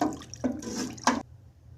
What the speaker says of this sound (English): Here I'm adding roughly 1 gallon of water.